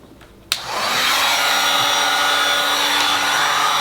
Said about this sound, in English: I'm going to hit it with the heat gun, and that'll make it a little softer.